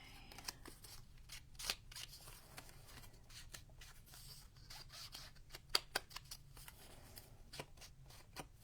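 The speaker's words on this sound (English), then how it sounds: "Just need to cut some acetate for these." Scissors cutting an acetate sheet for junk journal cards, a series of faint, sharp snips and crisp crinkles scattered irregularly over a quiet room hum.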